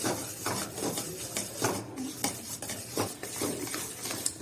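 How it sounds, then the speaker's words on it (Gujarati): Roasted sesame seeds stirred into melted jaggery for chikki, with repeated close scraping and knocking of a spoon against the pan and a faint sizzle underneath, no voices. "ગોળ ચીકી બનાવવા જેવો થઈ ગયો છે એટલે આ એમાં ભેળવી દીધું"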